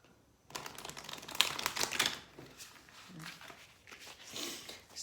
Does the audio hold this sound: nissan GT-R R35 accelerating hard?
no